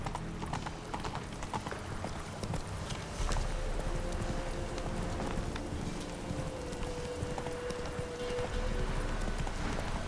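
Roach, the horse in The Witcher 3, gallops with a quick, rhythmic clip-clop of hooves that runs continuously and fairly close, over faint ambient game sounds.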